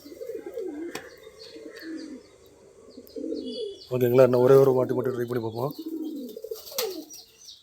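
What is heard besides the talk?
pigeons cooing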